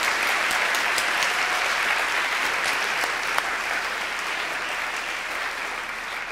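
A university forum audience applauds warmly for the panelists after a discussion, a continuous even roar of many clapping hands that holds steady throughout with no talking.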